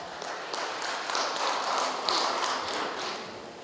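An audience at an organization's opening and appointment ceremony breaks into a short burst of dense, steady clapping that swells slightly and then tapers, heard from within the hall.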